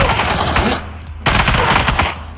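Video game gunfire plays through a JBL Quantum 400 gaming headset as loud, close bursts of rapid automatic shots in two dense volleys separated by a brief lull.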